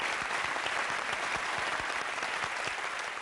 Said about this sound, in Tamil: VTV கணேசருக்கு ஒரு மிகப்பெரிய கைத்தட்டு ரெண்டு சைடுல இருந்தீங்க.